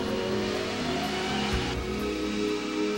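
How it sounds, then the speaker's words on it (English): A crash test car speeds toward a barrier at 30 miles an hour, its engine roaring loudly and continuously with a rising, revving tone that holds close throughout. "It's going to hit a barrier at 30 miles an hour, and the impact is going to happen very quickly."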